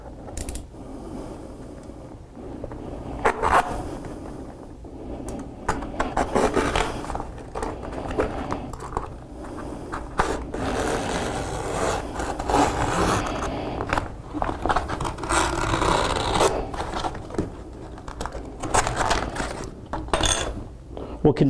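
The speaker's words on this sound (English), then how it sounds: "we'll take one of our cutting knives and we'll run it across the edge of this stretcher bar here, cutting the excess canvas off" A cutting knife trims excess satin canvas along the edge of a wooden stretcher bar, giving repeated scraping, creaking and slicing sounds in irregular bursts with a voice talking over parts of it.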